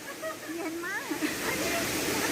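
A waterfall gives a continuous soft rushing hiss of falling water, faint and steady, with brief voices over it.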